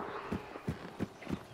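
Horse hooves in Hunt: Showdown, a steady clip-clop of four soft thuds at an even walking pace, fairly quiet and close, over low game ambience with no talk.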